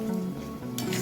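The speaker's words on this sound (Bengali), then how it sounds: "এটাকে একটু নেড়ে নিলাম।" Spice masala being stirred in a cooking pan after water is added, a soft scraping stir with a light sizzle beneath, brief and close, with no voices.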